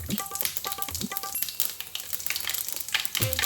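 Cumin, panch phoron and other spices crackle and sizzle in hot oil for a tadka, a bright, close, continuous frying hiss with small pops, accompanied by faint clinking.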